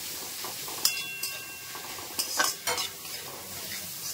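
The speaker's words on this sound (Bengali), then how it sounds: "এবার এটা এর মধ্যে দিয়ে দেব, সবগুলোকে ভালো করে নাড়াচাড়া করব।" Deboned boiled fish mixed in a bowl for crispy fish fry, giving soft wet stirring and scraping with a few sharp clinks of a utensil against the dish, close and alone.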